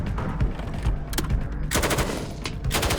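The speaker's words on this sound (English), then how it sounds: "Eventually, we ended up doing live fire shooting" Rapid live-fire gunshots ring out during weapons training for a film, loud and dense bursts of repeated shots that fill the clip with little pause.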